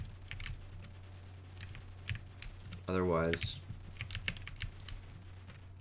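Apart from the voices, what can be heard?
typing on a clicky computer keyboard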